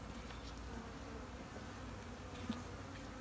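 Honey bees buzzing steadily around a hive being checked and fed ahead of winter, a continuous low drone with a slightly louder pass near the end.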